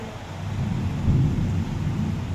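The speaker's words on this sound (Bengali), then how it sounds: "বাইরে নেমেছে ঝমাঝম বৃষ্টি, আর এই যে হালকা ঝড়" Heavy rain falls steadily outside during a light storm, with a dense, continuous roar and a low rumble of thunder swelling in the middle, loud and close, with no voices.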